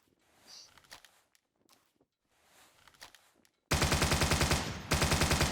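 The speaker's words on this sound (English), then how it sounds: "The only thing I don't like about this is the firing sound." A Steyr AUG rifle fires in the Battlefield 2 AIX 2.1 mod video game. Soft footstep-like shuffles come first, then a loud rapid automatic burst, a brief break, and another burst.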